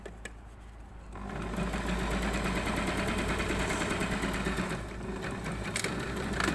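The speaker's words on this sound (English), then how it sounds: "continuing to stitch our seam" Sewing machine stitching a seam on a flounce sample, a steady close mechanical whir that starts softer and then runs continuously at full speed.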